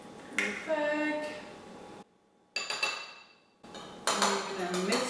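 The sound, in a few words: mixing egg in a bowl for cookie dough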